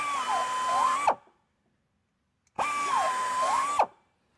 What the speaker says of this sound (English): Using a low-speed buffer and the carbide cutter, we'll go in there and we'll ream the injury out and remove the damage.